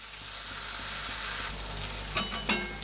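Water spinach (kolmi shak) fries in a pan with a steady low sizzle, then a few sharp scrapes and clacks of a spatula stirring the greens near the end, close and without talk.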